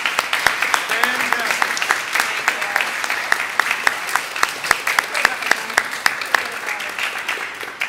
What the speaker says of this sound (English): I would like to have a round of applause for Alison Young for the work she did today.